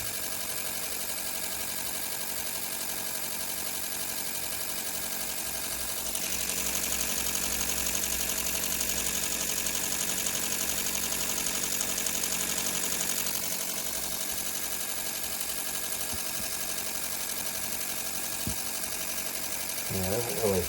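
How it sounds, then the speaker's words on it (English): A Ford V8 running on Speeduino engine management idles at about 700 RPM with a steady, close mechanical drone and hum. The drone lifts slightly partway through and stays even to the end. "Now it's running at 700 RPM. So that would be about idle speed."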